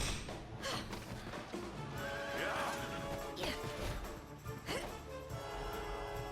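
A horse whinnies loudly twice in a busy game soundscape, with hoof clatter and background music underneath.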